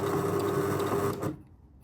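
A sewing machine stitching a shirt sleeve placket seam runs with a loud, steady close-up whir, then stops abruptly, leaving near silence. No one speaks.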